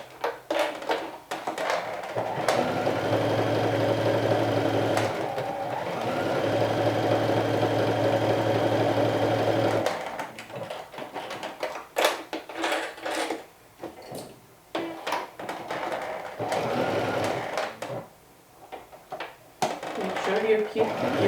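A home sewing machine runs a triple stretch stitch on a knit top's seams, its motor whirring steadily in long runs that stop and start, with a person talking between stretches.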